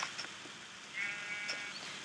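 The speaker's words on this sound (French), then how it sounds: "Oh, un mouton marron." A brown sheep bleats in the video game Minecraft, a short wavering bleat near the middle with faint softer sounds around it.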